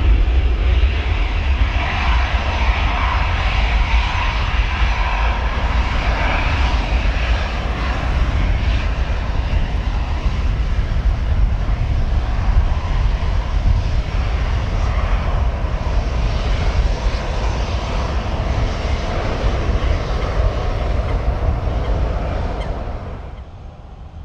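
Boeing 747 jet engines spool up during pushback on the apron, a loud, steady broadband roar and whine that fills the whole stretch, holding constant before easing slightly at the very end.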